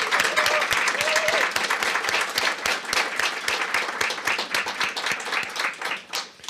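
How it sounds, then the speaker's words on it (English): An audience applauds candidates at a League of Women Voters forum for the 37th District California State Assembly race. The clapping is sustained and dense, steady across the room, then thins slightly toward the end. "how about a round of applause for these great people?"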